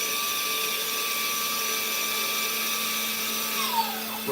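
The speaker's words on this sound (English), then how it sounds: "let me just clean here the vacuum because it's making a lot of noise." A vacuum cleaner used in a CNC and mold-making workshop drones steadily and loudly with a high whine, and its pitch shifts near the end.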